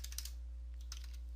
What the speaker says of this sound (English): Now what we want to do is type in IP config space / flush